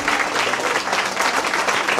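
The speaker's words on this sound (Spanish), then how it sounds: "¡Aplausos! Para la quinceañera y para nuestro Dios." A crowd at a quinceañera celebration claps steadily, a dense, even patter of many hands sustained throughout at close range.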